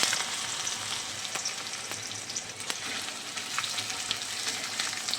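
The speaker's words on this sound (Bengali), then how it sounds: "পেঁয়াজগুলো লাল লাল করে ভেজে নেব" Onions frying in hot mustard oil with cumin seeds, bay leaf, cardamom, cinnamon and cloves make a dense, steady close sizzle with occasional stirring clicks, continuous and without voices.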